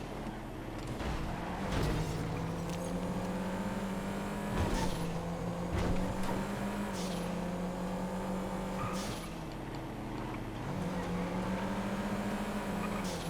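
Two video-game cars, a little Panto and a Liberator, race in GTA FiveM with steady engine drones rising and falling through gear shifts, loud and continuous with occasional thumps and bumps.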